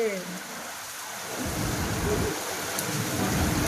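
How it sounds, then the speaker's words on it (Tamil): Heavy rain pours down in Erode, a dense steady hiss that swells louder after the first moment and keeps drumming on surfaces, with a low rumble beneath; no talking. "மழை பெய்யுது."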